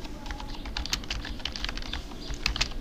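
Rapid typing on a computer keyboard produces a dense run of close, crisp key clicks throughout, with no talk.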